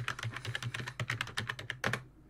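Rapid, close keystrokes on a computer keyboard as a short password is typed during a Windows 2000 Server setup, a quick even run of clicks lasting about two seconds before stopping.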